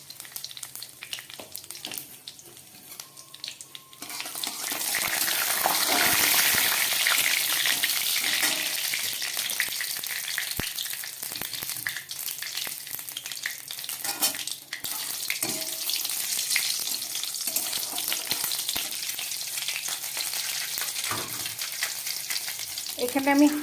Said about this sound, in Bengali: এবার দিয়ে দিচ্ছি তেলের মধ্যে 2টো তেজপাতা, 2টো শুকনো লঙ্কা, আর দিয়ে দিচ্ছি কিছু গোটা জিরে।